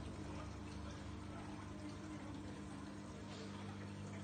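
A circulation pump in a 750-litre reef aquarium gives off a faint, steady hum with a soft watery wash, unchanging and alone.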